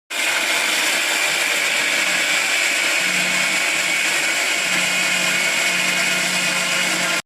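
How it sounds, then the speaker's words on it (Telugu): An electric mixer grinder whirs steadily as it grinds a chili spice mix with salt, giving a loud continuous motor whine and rattle that runs throughout with no talk. "ఇప్పుడు మనకి సరిపడా ఉప్పు వేసేసుకొని మిక్సీ పట్టేస్తాను."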